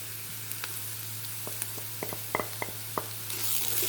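Ginger and garlic sauté in a pan, a quiet steady sizzle with scattered small pops and crackles and a low electrical hum beneath, rising slightly louder at the end.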